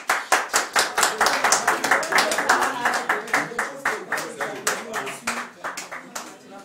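A crowd at a political party's New Year greetings gathering claps in a steady, distinct rhythm, each beat crisp and close, carrying on for several seconds with faint voices mixed in.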